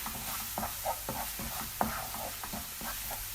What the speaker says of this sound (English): I'm gonna go in with my grounded seasonings. Okay, my turmeric and all my other good stuff, and just mix that in together.